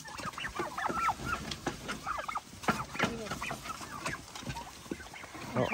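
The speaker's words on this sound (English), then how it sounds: "Come on, turkeys, get in." A flock of turkeys being herded at evening into a roost shed calls out with overlapping clucks and honking gobbles, close and busy, with a brief voice speaking among them.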